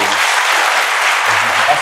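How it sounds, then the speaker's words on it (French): Loud, dense audience applause hails an award-winning music act at a Koundé d'or ceremony, steady throughout, with a voice briefly audible beneath the clapping. "Je voudrais qu'on applaudisse ça très fort."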